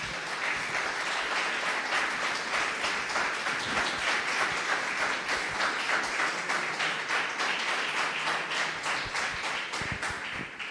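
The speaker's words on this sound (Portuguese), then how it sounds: "você pode aplaudir o Senhor por essa palavra?" A church congregation applauds the Lord after a sermon reading on Genesis, a steady, even wash of many hands clapping at moderate distance, sustained without break and free of talk.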